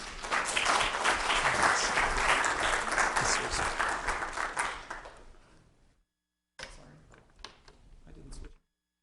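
Audience applause welcoming a speaker at a symposium, a dense sustained burst of clapping that fades out, then a brief quieter patch of scattered claps before silence.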